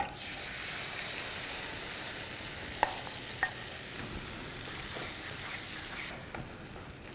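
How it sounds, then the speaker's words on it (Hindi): Curry with yogurt frying in desi ghee in a hot pan, a steady soft sizzle with a few sharp pops and stirring scrapes, close and fairly quiet. "उसमें जाएगा थोड़ा सा देसी घी और उसमें इस करी को डालकर हम भूनेंगे।"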